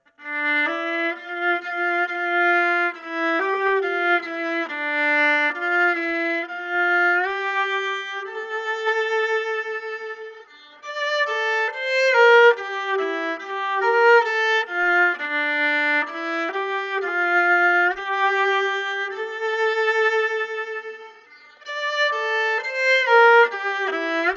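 A bright, steady melody of a Hebrew alphabet children's song played on a synthetic, organ-like tone, with clear repeated phrases and short pauses between sections.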